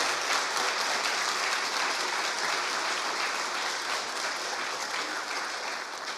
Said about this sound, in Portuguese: Pode aplaudi-lo com fé